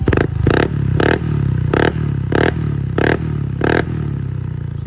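A Honda Click 160 scooter with an Apido power pipe exhaust revs hard in repeated short bursts, about seven loud blips over a steady close idle rumble.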